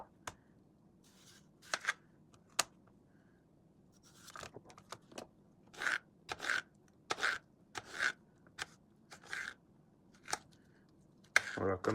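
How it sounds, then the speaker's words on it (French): Knife cutting peeled cucumber into small sticks for banh cuon, giving irregular crisp chopping taps and scrapes on a board, close and moderately loud, with no speech. "On va commencer par les éplucher et puis on va les découper en petits bâtonnets."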